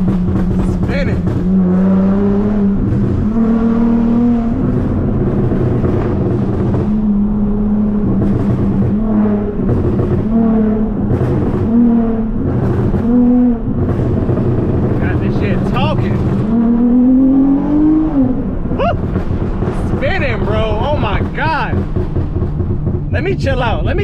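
A tuned V6 Dodge Charger drives with a loud engine note rising and falling through gear changes, its exhaust crackling and popping in bursts, with someone talking over it.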